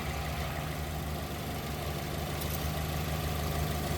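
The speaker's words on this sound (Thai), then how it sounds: "เครื่องยนต์ เดินนิ่ง" A 2012 Toyota Vios 1.5E idles smoothly under an open bonnet, giving a steady, even engine hum at close range with no talking.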